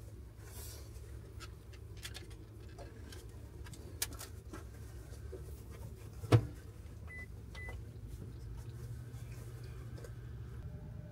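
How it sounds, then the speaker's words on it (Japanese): Microwave oven running inside a camper van on its auxiliary battery gives a low, steady electrical hum throughout, with a small knock and a couple of faint beeps near the end. "電子レンジ今全部30秒ずつだっけ？"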